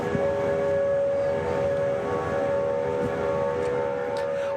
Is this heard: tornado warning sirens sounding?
yes